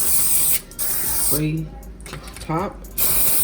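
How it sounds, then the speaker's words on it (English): A steady hiss of olive oil cooking spray in bursts before and after a short spoken phrase. "Now I'm going to take olive oil spray"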